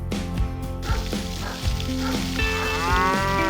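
A cow lets out long, low moos, close and loud, on a farm with goats, chickens and ducks, with a steady hiss in the background.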